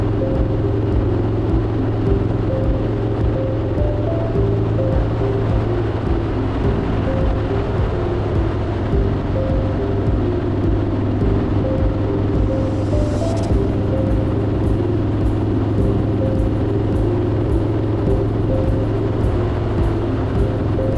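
BMW motorcycles cruise along the Pacific Highway in New South Wales, their engines a continuous loud drone mixed with heavy wind rush for the whole stretch, with no talking.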